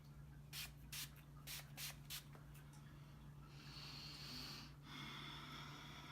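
A Fleur de Vie facial hydration mist is sprayed close by: a run of short, crisp spritzes, then a longer, steady misting hiss, all quiet and with no talking.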